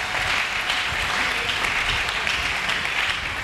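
A church congregation applauds loudly and steadily for several seconds, a dense wash of clapping hands without pause.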